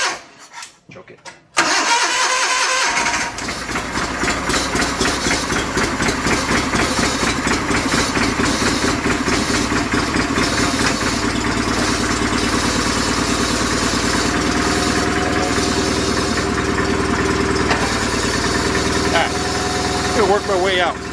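A broken John Deere 318 garden tractor engine cranks and catches after a short pause, then idles roughly with a loud, steady chugging rhythm close by, as a voice talks over it.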